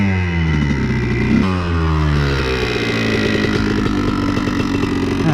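A Honda CR125 two-stroke dirt bike revs hard and steadily as its rear wheel spins without traction in snow, a loud, close, buzzing engine note that surges and dips briefly partway through.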